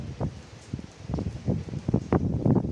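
Strong cyclone wind thrashes through leaves during a storm, with irregular bursts of loud rustling and gusts buffeting close to the microphone.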